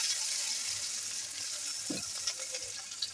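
Chopped onions and garlic paste frying in oil in a wok (kadai), a steady close hiss of sizzling with a few faint clinks of stirring, no voices.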